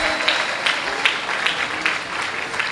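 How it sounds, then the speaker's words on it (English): Audience at a university graduation congregation applauding, a dense wash of clapping with regular pulsing swells, fairly loud and close, continuing without a break. "Shall we give ourselves a round of applause and congratulate"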